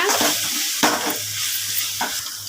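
Mutton gravy with garam masala sautés in a pan: a loud, constant sizzling hiss broken by a few strong scraping strokes of a spoon stirring the masala.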